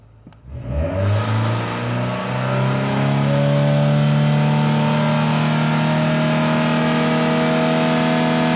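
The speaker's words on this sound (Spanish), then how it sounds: "Vamos a acelerar el vehículo." A Chevrolet Aveo with a transmission fault and its lights switched on revs hard from idle, the engine note rising quickly into a loud, sustained drone that holds steady for several seconds.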